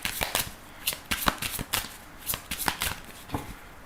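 Lenormand oracle cards being shuffled by hand in a quick run of crisp riffling bursts, close and fairly quiet, with no talking.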